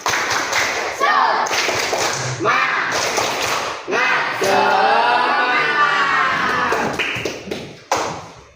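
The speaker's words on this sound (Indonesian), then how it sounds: "Tepuk semangat." A classroom of students performs a rhythmic spirit clap in several loud, patterned bursts of hand claps separated by brief pauses, with chanting voices mixed in between the clapping sections.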